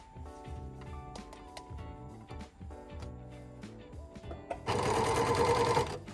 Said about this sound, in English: so it hits the blade first and then it hits the needles to be stitched